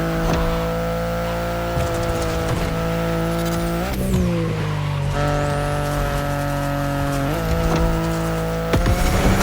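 A BMW i8 in The Crew Motorfest, its engine droning steadily near and loud with pitch shifts as it shifts gears and revs, occasional whooshes and tire noise, no talk.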